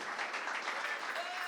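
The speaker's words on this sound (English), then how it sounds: "huge round of applause for Siddarth's family first." A crowd at a media company's 25th anniversary event applauds, a continuous, even wash of clapping with voices faintly mixed in beneath it.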